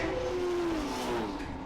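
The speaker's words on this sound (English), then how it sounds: "Cars coming streaming to the line as Milliman goes through in the Devil Black Mustang" Australian touring race cars, V8 Camaros and a Mustang among them, stream toward the finish line with a steady engine drone and a sliding pitch as one passes, fairly faint and distant.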